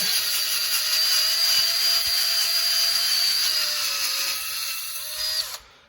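A drill whines steadily at high pitch as a 7/16 inch bit bores through metal for a Buick V8 oil feed, pitch dipping slightly under load before stopping abruptly near the end.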